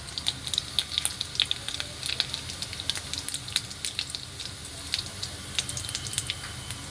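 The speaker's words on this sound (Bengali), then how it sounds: "এবার আমি ভেজিটেবলগুলোকে ভাজবো। শুকনো লঙ্কা আর জিরে" Carrots, beans and potatoes sizzle steadily in hot oil with dried red chilli and cumin, a dense close crackle of tiny pops and spits running throughout without talk.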